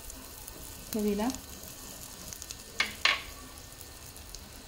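Chillies and asafoetida crackle gently in hot oil as a tempering for kokum (amsul) saar, a soft steady sizzle under a woman's speech, broken by two sharp spits near the end.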